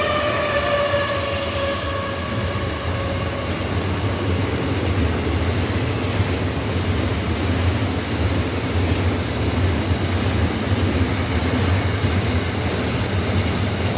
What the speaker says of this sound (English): Freight train and transport train racing.